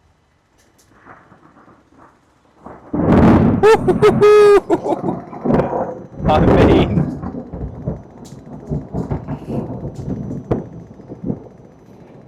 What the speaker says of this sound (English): because that was a crack of thunder